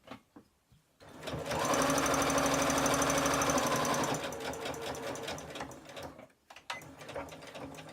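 A Butterick EB 6100 sewing machine stitches in a fast, close mechanical whir for a few seconds, then slows to a lighter stepping rattle with brief pauses between bursts.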